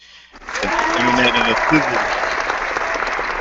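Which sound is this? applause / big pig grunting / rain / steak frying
applause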